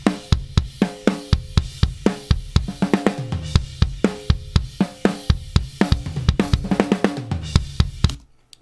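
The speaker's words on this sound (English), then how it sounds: "So the kick and snare together just is the kick in and the snare top" Punchy kick and snare drums, recorded through 73-style preamps and DBX compressors, play a steady groove, sharp hard-hitting attacks close up, running continuously until a brief stop at the end.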